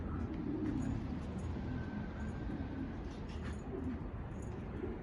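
Pigeons coo faintly and intermittently over a steady low outdoor rumble, with no clear voices.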